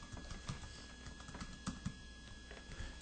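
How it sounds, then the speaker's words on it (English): Someone types on a computer keyboard in a television newsroom, with quiet, irregular key clicks under a steady background hum. "I'm typing Copper."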